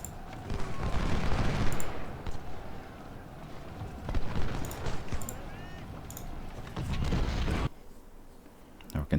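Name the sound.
cannon and gunfire in video game Ultimate General: Civil War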